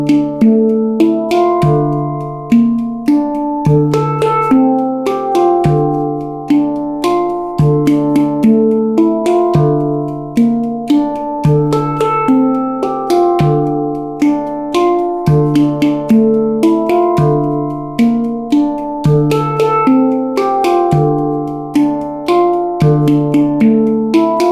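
A handpan plays a steady repeating sequence in 7/8, with main accents joined by added left-hand transition notes; bright, resonant metallic tones ring in an even rhythm, close and loud, with no talking.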